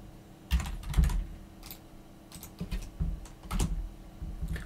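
Keys clatter on a computer keyboard as commands go into a Linux terminal, uneven close clicks and thumps in short clusters with brief gaps between them.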